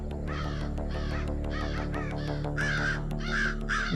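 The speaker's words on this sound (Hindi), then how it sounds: "कौवा बहुत मंडरा है।" Several crows caw repeatedly in close succession, harsh calls rising louder toward the end over a steady low background hum.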